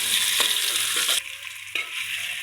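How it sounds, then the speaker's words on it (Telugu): Eggs fry in hot oil for egg biryani, a steady close hissing sizzle with a couple of faint stirring taps and no talking. "ఇప్పుడు మనము గుడ్లు ఆయిల్లో వేసుకున్నామండి. వేసుకొని ఫ్రై చేసుకోవాలి."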